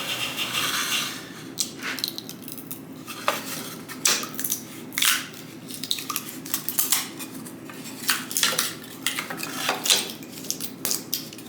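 CNC-cut wooden guitar control covers are punched out of a planed wood board, producing a series of sharp, close cracks and knocks with scraping and handling noises in between, no speech.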